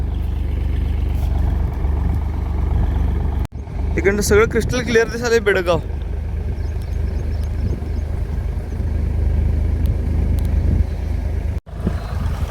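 A tractor engine runs as a loud, steady, low drone through the whole stretch, with someone talking over it for a couple of seconds and brief dropouts.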